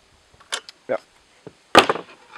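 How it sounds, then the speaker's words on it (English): A fixed wrench works a small threaded pipe fitting on a Husqvarna A 65 engine, giving a few short close metallic clicks and taps, then a sharper scraping clack near the end. "A little bit deep so the pipe goes to the bottom, so I use a fixed wrench."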